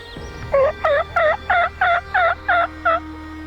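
A wild Merriam turkey gobbles in Montana, a run of eight quick, evenly spaced rattling gobble bursts, fairly loud and clear over a steady low background hum, with no talking.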